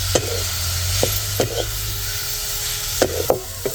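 Rabodi being mixed into a pan of cooking masala, a steady sizzle broken by several sharp spoon scrapes and knocks at irregular intervals, close and fairly loud.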